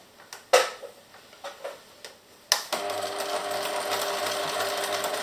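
A sewing machine stitching a continuous piping strip, set to a 3 stitch length, starts after a few handling clicks and thumps, then runs in a steady close whirring hum to the end.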